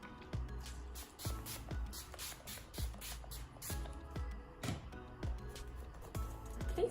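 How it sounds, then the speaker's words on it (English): A Mario Badescu facial spray mists over a face to set makeup. Close, short hissing spritzes repeat in a quick, uneven series against a quiet background. "Set my makeup using this facial spray"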